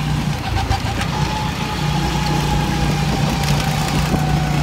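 A go-kart engine racing around a track, a steady mid-pitched motor drone that holds fairly loud and even throughout, without talk.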